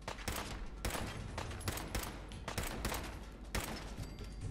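Gunfire in a Fallout 4 shootout: rapid, dense bursts of loud shots and sharp cracks repeating through the whole stretch, close and overlapping with no talking.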